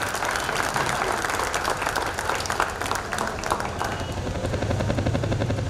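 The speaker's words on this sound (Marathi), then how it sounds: "दुप्पट टाळ्या व्हायला हव्यात असं मला वाटतं." Sustained audience applause at a felicitation event, a dense, steady roar of many hands clapping throughout, loud and continuous with some crowd noise mixed in, swelling slightly toward the end.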